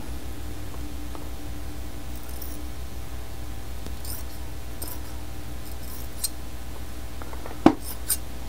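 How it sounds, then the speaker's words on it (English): Scissors snip a strip from a square yard of fabric-like material: quiet, scattered crisp cuts and light rustling over a faint steady background hum, mostly without talk. "So I'm going to cut a strip of this."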